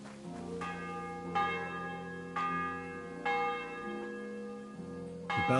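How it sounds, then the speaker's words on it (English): A church bell in the medieval game Kingdom Come: Deliverance II rings out in several slow, evenly spaced strikes, each clang leaving a long ringing hum that carries into the next, moderately distant and alone. "The bell's ringing for Hans the 5th time."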